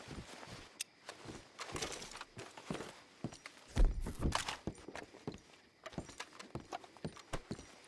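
Horse hooves clip-clop in a video game, a faint irregular patter of steps approaching, with some rustling and thumps among the hoofbeats.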